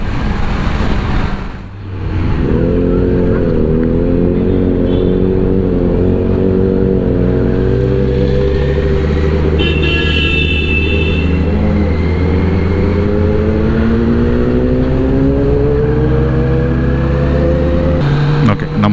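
A Kawasaki ZX-10R motorcycle fitted with an AR exhaust revs hard and close, its engine pitch climbing and falling in steady sweeps under a loud, continuous roar for most of the stretch.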